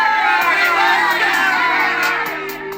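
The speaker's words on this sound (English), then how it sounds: "a large crowd of protesters were all standing on the platform" A large crowd of protesters on a station platform, many voices shouting and clamouring at once, loud and close, tapering slightly toward the end.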